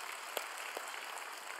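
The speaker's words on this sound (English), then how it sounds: "just give me one other hand clap" A church congregation at a Sunday service claps in a short burst of faint, distant applause lasting about a second and a half, with a couple of sharper individual claps standing out.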